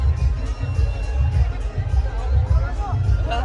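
Dense crowd hubbub at the Dronagiri palkhi procession of 2026, a loud continuous babble of many voices close around, with a nearer voice speaking over it.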